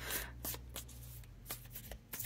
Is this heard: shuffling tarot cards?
yes